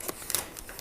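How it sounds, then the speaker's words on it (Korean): Protective plastic film peeled off an iPad mini 5 (2019) tablet during unboxing: a short, close burst of crinkly rustling and crackling plastic, with quick scratchy flicks. "비닐을 벗겨보면은"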